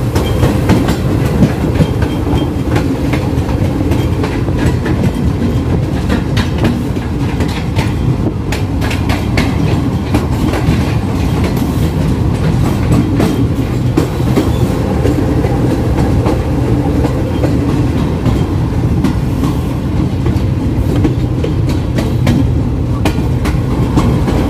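Interior of the Tezgam Express passenger train, hauled by locomotive GEU-40-9016, running at speed toward Lahore Junction: a loud, constant rumble with rapid rhythmic clickety-clack of wheels over rail joints continues unbroken throughout, with no talking.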